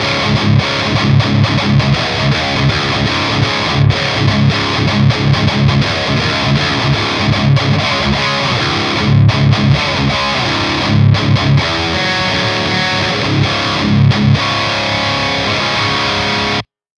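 A heavily distorted electric guitar through a Synergy tube amplifier on amp structure A plays a dense, chugging riff, loud and saturated, running continuously before cutting off abruptly.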